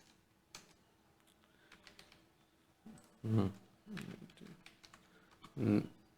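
Someone types a search on a computer keyboard, giving scattered soft key clicks followed by a few louder, heavier presses, close up and fairly quiet, with no talking.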